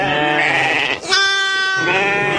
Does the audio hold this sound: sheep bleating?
yes